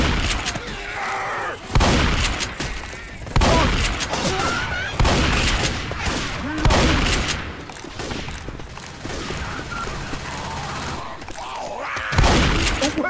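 Rapid gunfire bursts in the zombie shooter Left 4 Dead 2 multiplayer, loud repeated volleys with short pauses between, mixed with game effects and players shouting over it.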